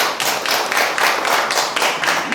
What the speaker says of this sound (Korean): 박수 한번 더 치죠,